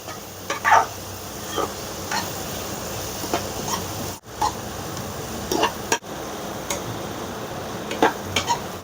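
A spoon scrapes and stirs chili powder and turmeric into a sizzling pan for a village-style mackerel kismur, giving soft irregular scraping strokes and light clinks over a constant frying hiss, close up and without talk.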